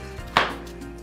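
A single sharp chop of a knife cutting through firm pumpkin onto a board, one crisp thud in an otherwise quiet room.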